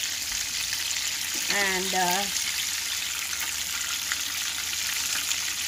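Chicken pieces deep-frying in hot oil filling over half a pan hiss with a steady close sizzle throughout, while a voice briefly speaks over it.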